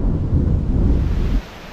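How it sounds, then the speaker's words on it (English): Deep thunder rumbles from an outer band of a hurricane, a loud sustained low roar that cuts off sharply near the end, leaving a quieter background of wind and rain. "Thunder."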